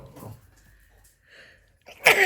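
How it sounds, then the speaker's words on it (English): A single loud, close sneeze bursts out near the end after a few quiet seconds with faint rustling. "I'm going to sneeze."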